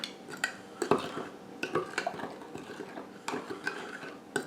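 A spoon scrapes and clinks against a container while scooping out spiced deer jerky ingredients, a run of close, light knocks and scrapes at an irregular pace with no talking.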